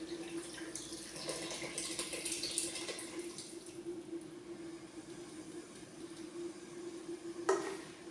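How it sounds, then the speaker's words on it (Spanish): Tap water pours into a rinsed beer can in a home kitchen, a soft steady trickle under a constant low hum, with a brief louder splash near the end. "esto ya es agua del grifo"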